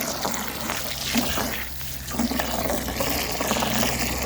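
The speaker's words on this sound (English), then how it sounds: "So I'm just going to fill that bucket with hot water just now." Hot water runs from a tap into a bucket in a steady, close rushing flow that continues unbroken, with a brief quieter dip partway through.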